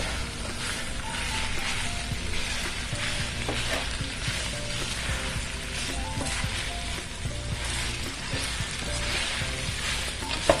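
Large shredded pieces of salted cod, bacalao for a Spanish dish, sauté in a hot pan, a loud, continuous sizzle with fine crackling and occasional stirring scrapes, close and steady throughout without talk.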